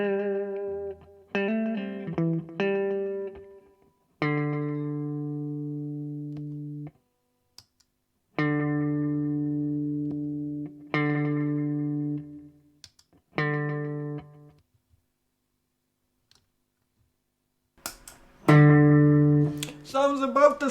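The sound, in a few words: guitar through Donner Yellow Fall delay pedal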